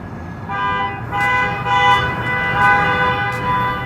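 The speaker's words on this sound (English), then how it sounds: "Waymo's self-driving taxis began parking under my window and honking in the" A Waymo self-driving taxi sits parked in the street at night and sounds its horn, several short honks over steady traffic rumble, somewhat distant as if heard from a window above.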